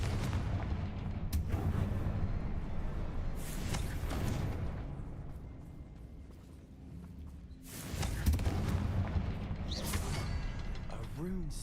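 Confringo fire spell explosions in Hogwarts Legacy, several loud bursts and booms in clusters, near and punchy, over rumbling game ambience with a whooshing sweep at the end.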